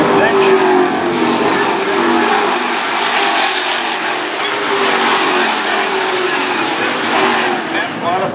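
Modified race cars roar side by side at the green-flag start, engines loud and sustained with a rising and falling whine, while a commentator speaks over the racket.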